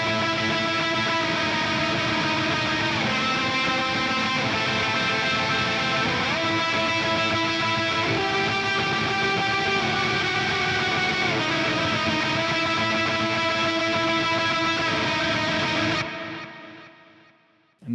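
Heavily distorted electric guitar lead through an STL Tonality high octave lead preset with several effects engaged, sustained and dense for about sixteen seconds, then cutting out abruptly into near silence; no speech.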